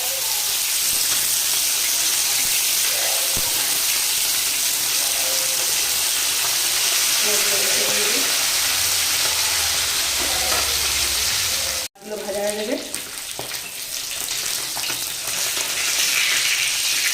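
Chopped tomato leaves fry in oil in a pan with a loud, continuous, close-up sizzle and hiss. Stirring scrapes sound now and then, and the sizzle drops briefly before surging back.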